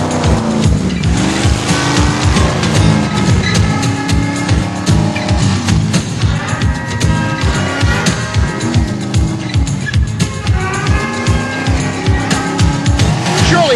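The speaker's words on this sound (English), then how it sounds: "a truck that can climb a wall of cars, pound them into tinfoil, and keep looking for more" Monster trucks crushing a wall of cars, with loud, continuous engine roar, tire squeal and repeated crunching impacts of metal throughout, amid an arena din.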